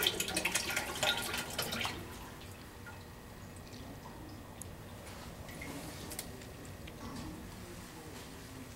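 Engine oil drips and trickles into a drain pan after the oil filter is removed, a faint irregular patter that is busier at first and then thins to scattered drips.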